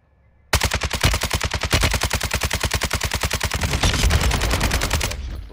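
Rapid sustained automatic gunfire from Call of Duty: Modern Warfare II rattles loud and close, a long evenly spaced burst of dozens of shots running for several seconds with no talk.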